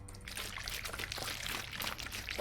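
Water pouring in a steady, continuous splashing stream, close and fairly loud throughout with no pauses or talk over it.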